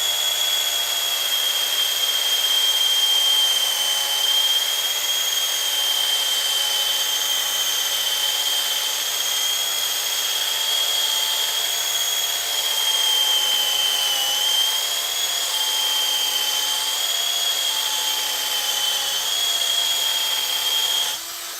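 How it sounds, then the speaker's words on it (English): A handheld polishing machine runs steadily on tarnished metal, giving a close, continuous high whine with a constant tone throughout and no speech. "Going to struggle to get the polisher on this bit."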